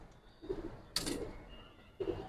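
Pure-bloodline silver pigeons coo in short low throaty bursts, three soft separate phrases close by, with a brief sharp rustle between them.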